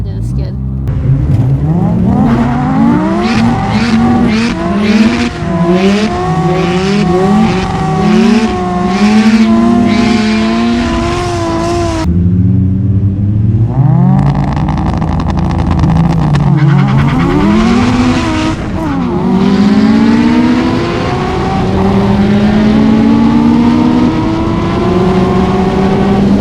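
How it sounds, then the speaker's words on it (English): A single-turbo Mazda FD RX7 revs hard and skids, its engine note climbing and falling through repeated high-pitched rev sweeps and bursts of tire noise, loud and close from inside the car for the whole stretch. "We're rolling up, just about to do the skid."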